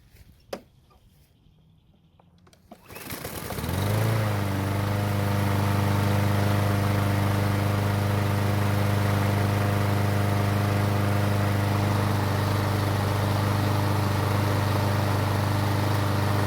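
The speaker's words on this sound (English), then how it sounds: "we're going to try and start the engine" A small Troy-Bilt lawn mower engine, after winter storage with a clogged carburetor jet, sputters and catches after a few seconds of quiet, then settles into a loud, steady running drone that continues to the end.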